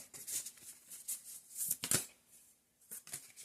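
A deck of oracle cards being shuffled by hand in quick riffling bursts, soft and close, with a short pause before a final few flicks, and no talk.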